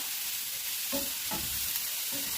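Mushrooms sizzle steadily in a hot, initially dry pan while a utensil scrapes and stirs them a few times.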